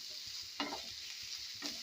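Soft sizzling and stirring of green chilies sautéed with turmeric and black pepper in a pan, a steady faint hiss broken by two brief scraping stirs.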